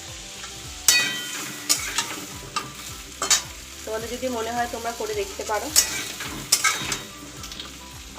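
Potatoes with salt and turmeric sizzle and fry in a pan while a utensil stirs and scrapes in sharp irregular clatters, with a person speaking briefly over it.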